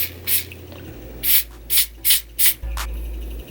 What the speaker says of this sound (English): I am going to take my spray and spray the hairline.